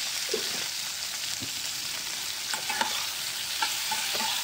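Turmeric powder being stirred in a frying pan, with a steady close hiss of hot oil and a few soft scraping knocks of a spoon.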